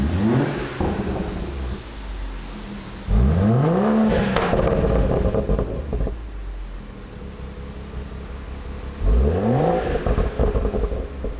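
A salvage BMW 340i engine runs after a test start, with steady idle broken by two strong revs that rise and fall in pitch, loud and close.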